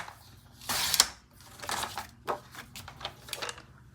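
Cardstock being cut for a card base on a paper trimmer, a few short close scraping and clicking strokes with mechanical rattles, fairly quiet with pauses between, no talking.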